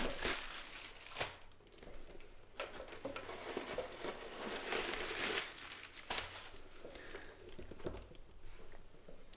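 Protective tissue paper being pulled out of a Gucci Tian GG Supreme messenger bag, a run of soft crinkling and rustling bursts close up, fairly quiet, with no talk.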